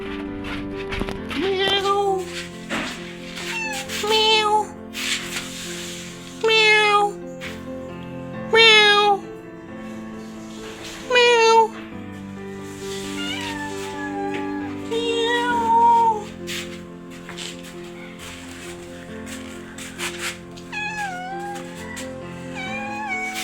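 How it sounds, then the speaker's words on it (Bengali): A pet house cat meows repeatedly in short, close, wavering calls spread across the whole stretch, alone with no talking. "এটা হলো এই বাসার পোষা বিড়াল"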